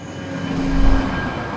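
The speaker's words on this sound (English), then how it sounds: "You can hear the train, the traffic, and then that transition." A passing train in documentary sound design, a loud, steady rumble of rail wagons with a low boom that swells at the midpoint, sustained metallic tones over it, and no talking.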